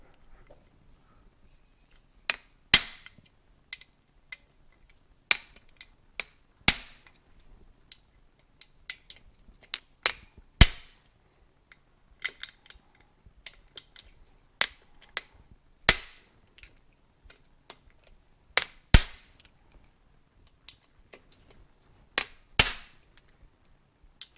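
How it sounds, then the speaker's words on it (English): Sharp metallic whacks ring out one at a time at irregular intervals, loud and close with quiet gaps between, as parts are struck during assembly of a Yamaha AT-1 engine being converted to CT-1. "I'll just give them all a whack here."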